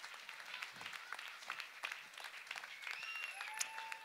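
An audience at a vernissage claps steadily for several seconds, a dense, moderately distant applause that keeps a fairly even level throughout, with a faint whistle-like tone near the end.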